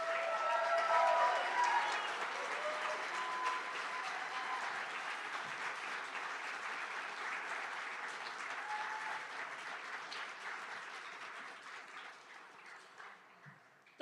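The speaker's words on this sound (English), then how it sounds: "Please give another round of applause to our graduating class of fall 2024." A crowd at a December 2024 nursing pinning ceremony applauds the fall 2024 graduating class. Loud, sustained clapping with a few cheers starts strong, holds steady for over ten seconds, then slowly fades.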